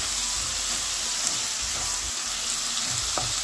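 Whole spices fry in hot oil in a pan and are stirred, giving a steady, close, loud sizzle with faint scraping touches throughout and no talking.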